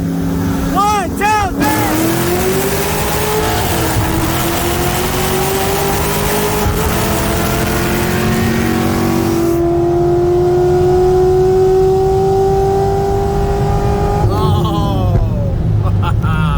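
A 2003 Ford Mustang Cobra with a 2.3 VMP supercharger and a 2008 C6 Corvette with a Paxton supercharger accelerating side by side in second gear, engines roaring loudly with rising pitch and shifts, heard from inside a car with wind and road noise.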